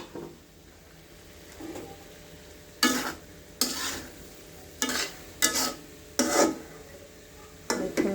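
Potato bhaji sizzles quietly in a pan under a low steady hiss, while a spatula scrapes and stirs in about seven short, distinct strokes spaced a second or so apart.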